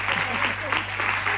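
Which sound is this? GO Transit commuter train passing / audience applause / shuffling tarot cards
audience applause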